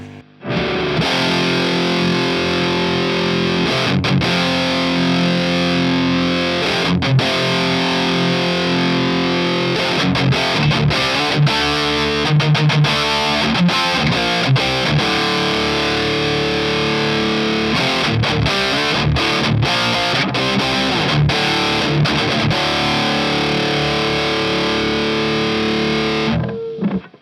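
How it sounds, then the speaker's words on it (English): An electric guitar plays through a Sunless Effects Dark Ages distortion pedal, loud and sustained with crunchy chords and riffs, no talking. "a lot of distortion pedals just tend to sound a little harsh, and I don't think this does"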